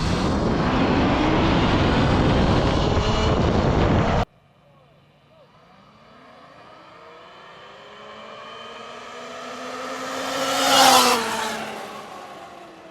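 Surron Ultra Bee electric dirt bikes in a rolling drag race, heard as a loud rushing wind-blast at first, then a rising electric motor whine that swells to a close, loud pass and fades.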